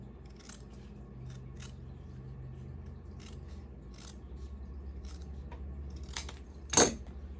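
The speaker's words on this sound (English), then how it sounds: "Now I'm going to take my scissors and cut right down that line." Scissors cut fabric down a sewn line, making a few faint, separate snipping and metallic clicks over quiet room hiss, with a louder snip near the end.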